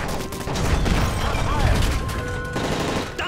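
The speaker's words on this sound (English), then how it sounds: "That's gunfire!" Rapid bursts of gunfire in Call of Duty: Modern Warfare 3 rattle over a dense battle din, loud and close, with muffled voices mixed in.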